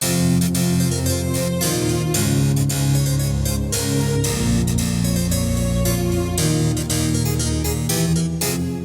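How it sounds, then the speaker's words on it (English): Layered music with crunchy strummed guitar and bright harpsichord-like plucked notes over sustained strings, loud and continuous. "you have the strings and the crunch guitar strings and the harpsichord sound layered"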